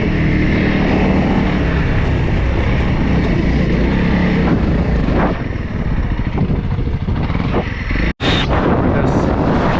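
A Honda CRF300L dual sport motorcycle held at full throttle while climbing a high alpine two-track in British Columbia, a loud, sustained close engine roar with wind buffeting that dips briefly near the end.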